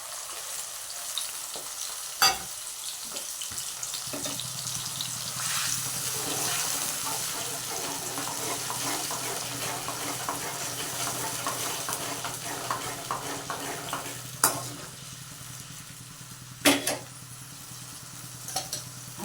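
Onion gravy hits a hot pan and sizzles loudly and steadily, with occasional sharp clanks of a spoon against the pan and no voices.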